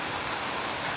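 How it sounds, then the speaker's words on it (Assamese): Heavy, nonstop rain pours down in a steady, dense hiss close by, with no other sounds standing out. "ভয়ংকৰ বৰষুণ দিব নন ষ্টপ বৰষুণ আছে"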